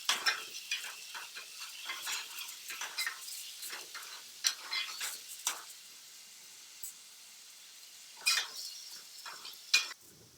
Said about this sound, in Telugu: ఉల్లిపాయ పచ్చిమిరపకాయ పేస్ట్ వేసేస్తుంది ఇది కూడా వేపుకుందాం బాగా